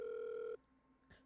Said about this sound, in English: the line finally rings